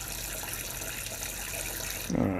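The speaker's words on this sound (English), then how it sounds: "Alright, fill up the water dish." Broad, steady hiss of water spraying from an adjustable sprayer nozzle, continuous and close, ending with a brief splashing burst.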